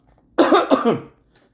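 A single close, loud cough with two quick bursts, then silence.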